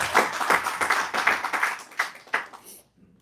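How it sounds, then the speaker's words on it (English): An audience gives a short round of applause at a talk on famine, food and freedom, dense claps rising and thinning before stopping abruptly near the end. "give yourselves a round of applause for your action"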